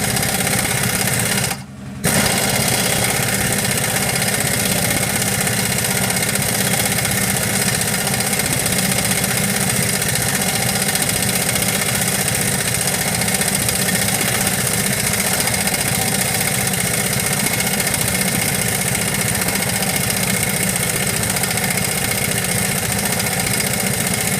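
A steady mechanical whir of an impact gun runs throughout, loud and close, with a brief drop near the start before it resumes without letup, during rear trailing arm bushing replacement on a BMW E36.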